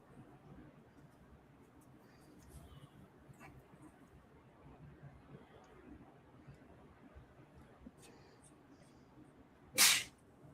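A single sharp human sneeze bursts out near the end, loud and close, after a stretch of quiet room noise during makeup application with a sponge.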